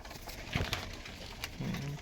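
A Madrazi tournament flying pigeon at a pigeon farm in Rajshahi gives a brief, low coo near the end, quiet against faint background rustle, with no talking.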